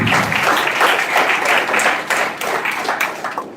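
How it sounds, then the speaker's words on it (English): A crowd applauds at a college orientation program for new students, loud, close and dense clapping that surges and then slightly thins toward the end, with no speech over it. "I request you all big round of applause for these both legends."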